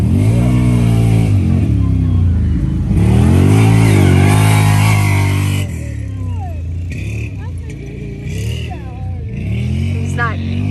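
A CFMOTO 800 ATV set up with soft suspension and no sway bar rides along, its engine droning and revving loud and close throughout, with pitch rising and falling and a dip midway, while people talk over it.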